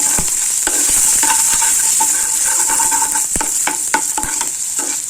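Garlic sautés in oil over a slow fire for a sour-greens thokku, with a steady close sizzle and repeated scraping stirs and light clicks of a spoon against the pan.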